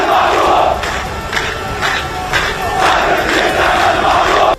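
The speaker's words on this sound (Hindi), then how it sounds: "लोगों ने अस्पताल पर हुए हवाई हमले की निंदा की और इजराइल के विरोध में जमकर नारेबाजी की।" A large protest crowd in Ramallah chants slogans against Israel over an airstrike on a hospital, a loud, dense roar of many voices rising in rhythmic bursts throughout.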